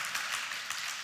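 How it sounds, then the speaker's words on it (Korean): Church congregation applauding during a Sunday worship service, a steady wash of many hands clapping at once, fairly faint and continuous, with no talk over it. "우리 박수하도록 하겠습니다."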